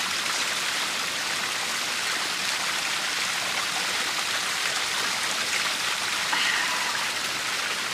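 Mountain spring water flows in a steady, soft hiss and trickle, continuous and moderately quiet, in a Himalayan outdoor setting.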